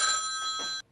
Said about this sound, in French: je voulais juste te faire écouter la sonnerie